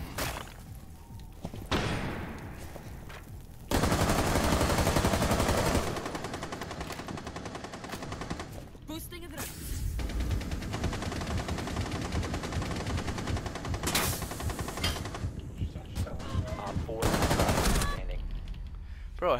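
Heavy bursts of automatic video game gunfire, loud rattling volleys that stop and restart several times, with occasional thuds between them and a few voices faintly underneath.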